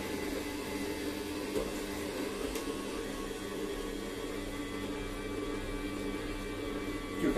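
A juicer machine grinds through halved ginger, giving a steady, loud mechanical whir with a constant hum that runs unbroken throughout.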